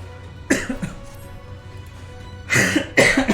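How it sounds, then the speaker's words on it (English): Two bursts of harsh coughing from a character in Final Fantasy XIV, one early and a louder pair near the end, over a faint steady background hum. "And dying to coughing apparently."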